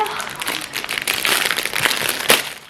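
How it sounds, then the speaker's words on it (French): A package holding an illustrated tote bag is torn and unwrapped, giving close, uneven crinkling and rustling of paper or plastic while someone talks over it. "Ouais, sac cabas illustré. On va l'ouvrir."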